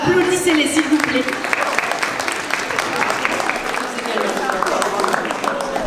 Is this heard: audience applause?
yes